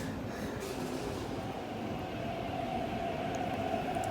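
A Hong Kong metro train pulls out of Tai Po Market station with a steady loud rumble of wheels and motors and a rising electric whine, heard from the platform with no talking.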